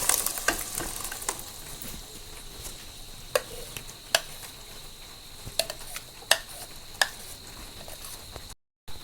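Ground coconut paste for kadala curry hisses and sizzles steadily in a hot pan, broken by sharp clinks and scrapes of a spoon stirring; close and moderately loud, no talking.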